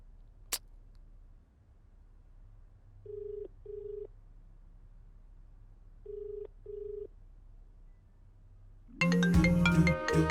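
An unanswered phone call in a Tamil action thriller film: two double-pulse ringback tones repeat quietly with a pause between them, and loud music then cuts in.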